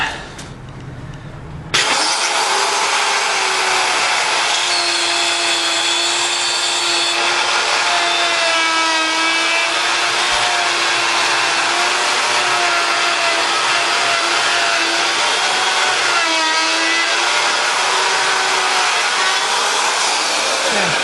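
A power saw cuts a dado along the fence for a pantry cabinet, starting after a brief moment and then droning loud and steady at close range for about twenty seconds.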